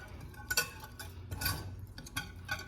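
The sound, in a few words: whisking ingredients together in a bowl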